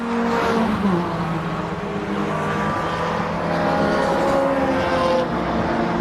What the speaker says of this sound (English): Another car pulling into the pits too.